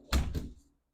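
A door is opened close by, giving two quick dull thumps followed by a brief fading rattle.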